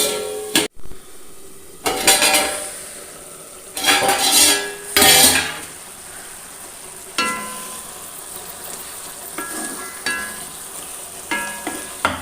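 Cooking a dal and spinach curry in a pot, with loud clanks and scrapes of metal utensils and a lid against the pot in bursts, over a soft background sizzle; no speech.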